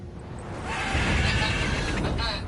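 A horse neighs in the fantasy video game The Witcher 3, a drawn-out whinny rising over steady ambient game background noise, fairly close and clear.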